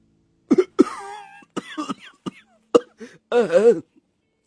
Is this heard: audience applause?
no